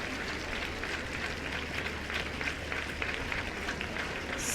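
Steady applause and cheering from a home crowd at a dressage arena fill the whole stretch, dense and continuous at a fairly distant, even level, with no talk above it.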